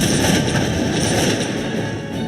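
Massed battlefield gunfire in the strategy game Cossacks 2, Poland against Russia, a dense, continuous crackling roar that stays loud and unbroken throughout with no talking.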